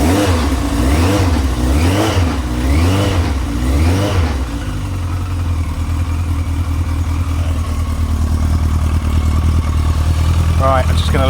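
A cold motorcycle engine idles on choke with a steady, loud, low drone, and a few rhythmic swells early on settle into an even idle that continues to the end.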